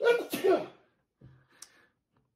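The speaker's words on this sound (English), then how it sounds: "Blessed is he whom sneezes a lot." Two quick, sharp sneezes burst out close by, then a faint breathy murmur follows after a short pause.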